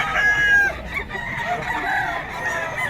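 A Sweater breed gamecock crows close by, a loud drawn-out call followed by shorter clucking and crowing notes over a faint outdoor background.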